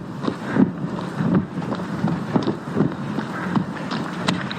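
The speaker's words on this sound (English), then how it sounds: "Into the wind we go." Gusty wind buffets the microphone while sailing on a lake, a rough, rumbling roar pulsing in uneven waves throughout, with no talking.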